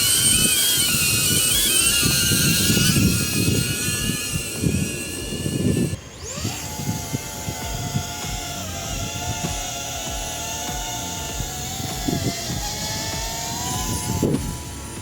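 A DJI Avata 2 FPV drone in flight gives a steady propeller whine and buzz. The pitch shifts and sweeps, with a sharp change partway through as the drone manoeuvres. It stays fairly loud throughout, with no talking.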